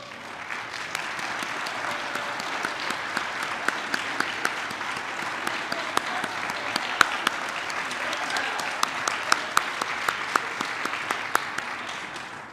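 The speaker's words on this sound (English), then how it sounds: "please give them a round of applause" Sustained audience applause at an MLK Day human rights celebration, honoring elected officials standing to be recognized; steady dense clapping through the whole stretch with a few sharper nearby claps, no talk over it.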